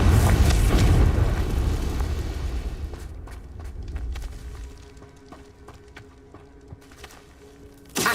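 A loud Confringo spell explosion in Hogwarts Legacy bursts with a heavy boom that rumbles and fades over several seconds, leaving lighter game sounds in the background.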